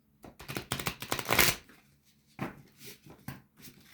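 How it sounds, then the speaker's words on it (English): A deck of tarot cards is riffled and shuffled by hand in quick papery bursts, a dense flurry followed by a few softer shuffles, close and alone. "Give it one more shuffle."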